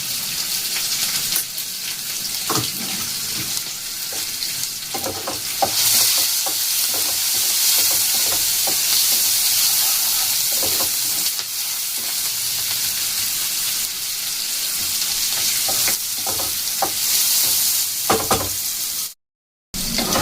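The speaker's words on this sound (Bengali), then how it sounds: "পেঁয়াজগুলোকে খুব বেশি লাল করে ভাজার দরকার নেই। এই যে দেখুন, এইরকম করে ভেজে" Onions, cumin seeds and bay leaves fry in oil for an egg and potato curry, a loud, steady, close sizzle with regular spatula scrapes and taps, ending in a brief gap.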